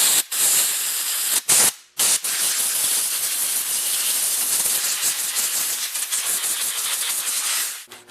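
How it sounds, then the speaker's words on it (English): Compressed air from an air compressor blasts steadily into a Tecumseh snowblower carburetor around the emulsion tube, a loud continuous hiss with a couple of brief pauses near the start, then running nearly eight seconds before cutting off. "I'm going to air blow it a bit with my air compressor just to make sure that everything is super clean"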